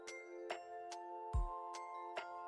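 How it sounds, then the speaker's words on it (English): Bright bell-like chimes ring about six times at roughly half-second intervals over a steady sustained tone, fairly faint, during a livestreamed online chess tournament broadcast. "Why do you hear bells and chimes?"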